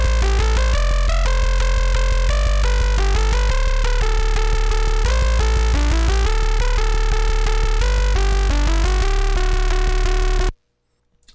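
Gritty, bubbly polybass synth patch built with SerumFX, loud and dense with a pulsing rhythmic pattern of stacked bass chords running steadily for about ten seconds before stopping abruptly, alone without voices.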